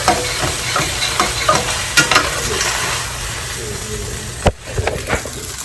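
Homemade egg fried rice sizzles loudly in a pan while being stirred, with a dense continuous frying hiss broken by repeated scraping and clanking strokes of the utensil.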